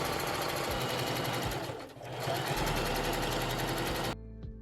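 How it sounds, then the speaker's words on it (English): A sewing machine runs steadily in one long continuous pass, stitching the side seams of a lining and bodice for a top, loud and close with a brief dip midway before stopping near the end. "Stitch side seams in one long seam along the bodice and lining."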